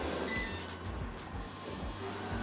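A Lenovo Cleaner E1 robot vacuum runs in random cleaning mode with a steady motor whir and low brush rumble, interrupted by periodic soft bumps as it moves around the floor.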